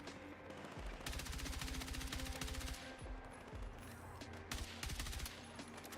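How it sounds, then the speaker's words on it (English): A gun in a video game fires rapid automatic bursts, loud and continuous with brief pauses between volleys, and no talking. "Oh, I love the recoil on this gun."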